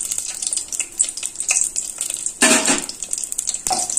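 Whole spices (nigella seeds, three bay leaves, a black cardamom, cloves and cinnamon) fry in hot oil in a pan for a chicken liver roast, giving a steady close sizzle with occasional stirring scrapes and clinks.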